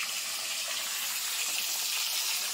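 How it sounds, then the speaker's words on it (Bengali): Fish frying in oil outdoors during a big family celebration, a steady broadband sizzle and crackle holding level and fairly loud throughout, with no voices. "বাইরে রান্না হচ্ছে আর ওইদিকে মাছ ভাজা হচ্ছে"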